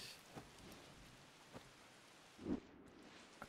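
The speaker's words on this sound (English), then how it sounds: "With like the how should I say, the raindrops" Steady rainfall with scattered raindrop hits in the martial-arts video game Sifu, a continuous soft hiss with a few brief louder patters and a low rumble around the middle, alone with no talk.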